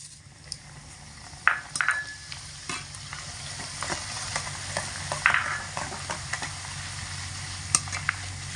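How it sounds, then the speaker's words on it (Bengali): Flattened rice (chira) frying in hot oil in a pan, a constant bubbling sizzle under intermittent clinks and stirs of a utensil, close and fairly soft. "এই কড়া তেলের মধ্যে দিয়ে ভেজে নেব"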